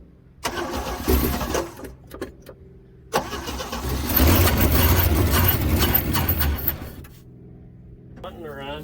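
The engine of a 1966 Chevrolet C10 truck cranks in two long bursts, trying to start, with a rough, uneven churn that stops between attempts and a brief pause at the end.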